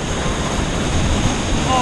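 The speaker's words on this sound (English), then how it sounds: "There's a big waterfall down here." A big waterfall at the Aquaventure water park, Atlantis The Palm Dubai, gives a steady, loud roaring rush of falling water with a constant wash of wind noise across the microphone.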